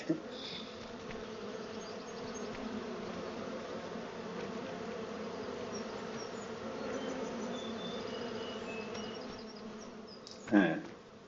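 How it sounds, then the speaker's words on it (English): Dense swarm of bees buzzing steadily in Farming Simulator 25, a continuous droning hum at even loudness with a brief louder burst near the end. "That's a lot of bees."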